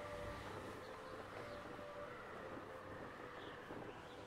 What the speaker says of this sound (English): Oh, I can't catch up to the train.